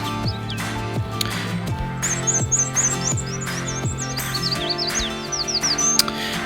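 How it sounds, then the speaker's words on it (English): Bird song from an alarm clock app on an iOS device: repeated high chirps and whistled calls, phrase after phrase, over a steady bed of lower tones and background hum. "Here you can see the sound of this bird."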